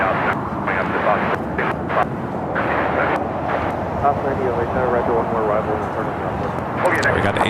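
Broad roaring drone of an Asiana airliner passing over the south side of LAX airport, steady and fairly distant, with a person talking over it.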